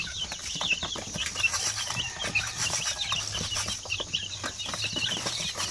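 Native chickens crowded together for shipment from Bukidnon, clucking and squawking continuously with occasional bursts of wing flapping, a busy close-up flock with no talking.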